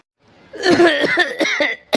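A man coughs in a rough, voiced burst that breaks into a few short hacking pulses, close and loud after a brief silence, with one last sharp cough at the end.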